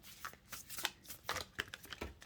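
Tarot cards are shuffled by hand in quick, soft riffling bursts, several papery flutters close and quiet with no talk.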